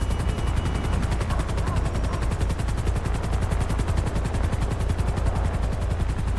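Helicopter in the video game GTA 5, a fast steady rotor chop with rapid rhythmic pulses, loud and continuous throughout.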